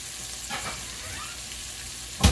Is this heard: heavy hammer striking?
no